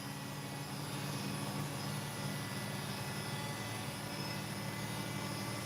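A washing machine spins at high speed, giving a steady, loud, whirring mechanical drone with a low hum underneath, unbroken from start to finish.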